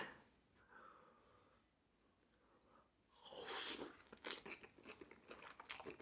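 Close, crisp crunching and wet chewing of cucumber with spicy Korean cold noodles (bibim naengmyeon), starting softly and then building into a dense run of bites and chews.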